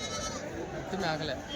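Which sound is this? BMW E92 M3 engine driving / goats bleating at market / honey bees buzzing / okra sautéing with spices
goats bleating at market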